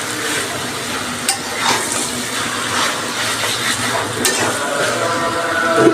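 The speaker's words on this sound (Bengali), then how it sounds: "এখন ভাজা ভাজা করতে হবে।" Minced beef sizzling in spiced oil while being stirred and turned in the pan, a continuous close crackle with occasional sharp scrapes of the spoon.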